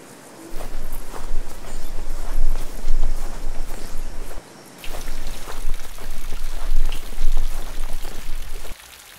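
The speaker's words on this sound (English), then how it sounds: "It's rainy today." Steady, loud rain patters down in two bursts of several seconds each, a dense drumming hiss with brief quiet gaps between.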